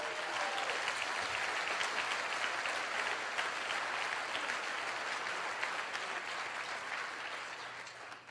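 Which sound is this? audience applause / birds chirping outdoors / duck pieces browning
audience applause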